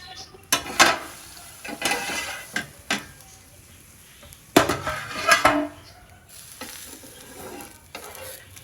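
Several loud scraping and clattering bursts of a non-stick pan being handled and stirred, separated by quieter gaps, close by with no voices.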